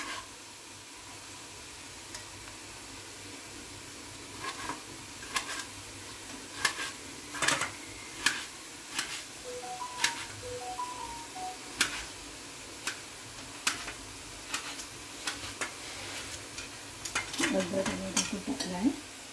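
Finely chopped tomatoes are stirred in a pan for a kolumbi (shrimp) masala, with a faint sizzle under sharp, irregular clinks and scrapes of a spoon against the pan and a brief rattle near the end.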